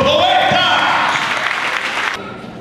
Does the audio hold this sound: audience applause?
yes